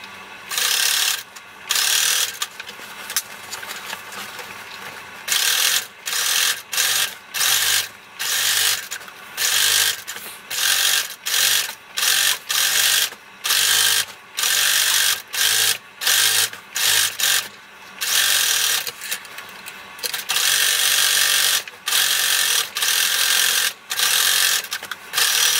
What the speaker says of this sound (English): I'm going to sew another row of stitching an inch below, just to give extra strength to the top of the basket.